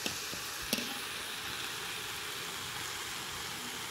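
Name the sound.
carrots, potatoes and onions frying in a pan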